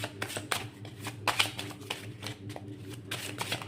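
An old, worn tarot deck is shuffled by hand in quick repeated riffles and soft slaps, close and steady, with no talking.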